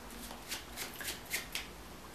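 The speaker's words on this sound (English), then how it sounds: "All right, we can shuffle it a little bit more." A deck of playing cards is shuffled in a quiet room, with soft riffling bursts repeating roughly every quarter second and several sharper snaps where the cards fall together.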